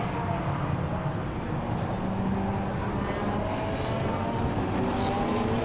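Race cars at Silverstone circuit powering up after a safety car period, engines droning steadily at a moderate distance with a rising and falling pitch, continuous and without talk.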